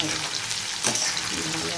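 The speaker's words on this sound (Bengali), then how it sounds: "আর এই আলু ভাজছি" Loud, continuous crackling sizzle of potatoes frying in a wok, close by, with a brief scrape near the middle.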